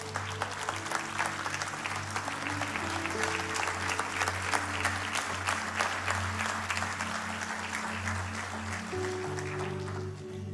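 A church congregation on its feet applauds steadily throughout, dense clapping filling the room over sustained organ or keyboard chords, with no speech on top.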